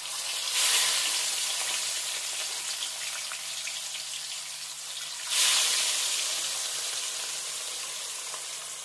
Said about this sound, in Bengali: তেল গরম হয়ে গেছে। এক এক করে আমি মাছের পিসগুলো দিয়ে দিচ্ছি।